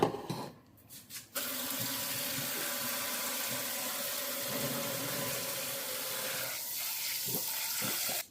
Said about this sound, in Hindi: उसके बाद इसको मैंने छन्नी में छान दिया